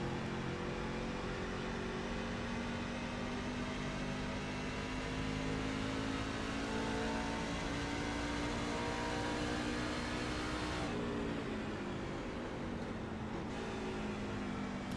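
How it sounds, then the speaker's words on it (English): Race truck in an ARCS Saturday Night Showdown truck series race, heard from onboard as a loud continuous engine roar that holds steady, drops briefly on a downshift, then climbs again as the throttle is fed back in off the corner. "You hear him downshift, get it as low as possible, and then really just feather the throttle coming up off the corner"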